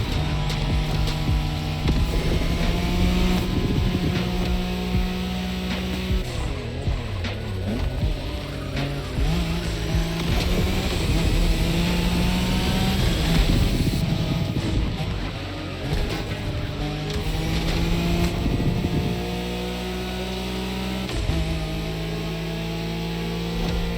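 Nissan Skyline engine racing in The Crew Motorfest on a Japanese highway route, a loud continuous drone rising and falling through gear shifts, with faint tire noise throughout.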